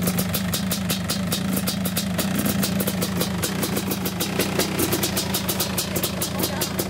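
A Suzuki LT500 Quadzilla ATV engine idles out in the dunes with a steady, rapid ticking two-stroke chatter, close and continuous, while people talk nearby.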